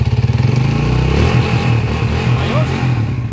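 A motorcycle engine freshly repaired with a new timing gear, follower and push rod is revved up, starting with a steady pulsing idle and then a loud, rising rev with talk mixed in over it.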